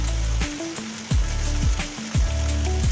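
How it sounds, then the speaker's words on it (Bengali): Spices and vegetables sauté in a pan for tangra fish curry, seasoned with salt, turmeric and Kashmiri chili powder, giving a loud, steady sizzle with a few sliding tonal sounds mixed in. "ভালো করে কষিয়ে রান্না করছি।"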